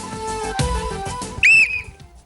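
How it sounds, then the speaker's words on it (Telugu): A sharp whistle is blown once in a Telugu television game show, a bright shrill blast cutting over background music. "విజిల్ వెంటనే వేయండి"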